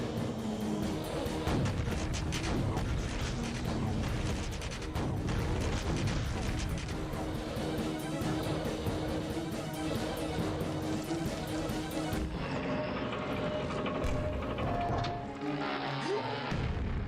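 Rocket explosions in Quake's Mission Pack 2, Dissolution of Eternity: a dense, continuous barrage of booms and crashing blasts layered over game noise, loud throughout, thinning out slightly near the end.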